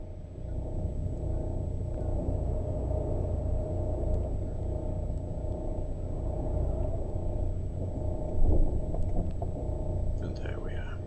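Boat engines and a bow thruster work while the vessel manoeuvres to moor, making a low, steady, close rumble that swells slightly near the end. A quiet voice talks over it.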